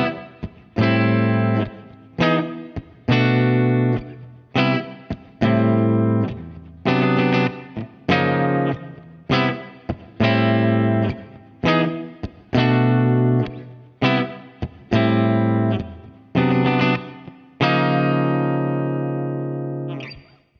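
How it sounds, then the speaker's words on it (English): An electric guitar runs through an AIDA-X neural amp model on a MOD Dwarf with a cabinet simulator and plate reverb. It plays a loud, distorted chord riff in repeated choppy strums, ending on one long sustained, reverberant chord. "a signal chain with the default neural model consisting of the amplifier taken care of by the AIDA-X, the cabinet simulator, and a little plate reverb"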